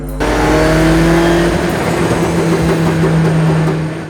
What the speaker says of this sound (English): Works Ford RS200. It's got an 1800cc VDT 500 horsepower engine.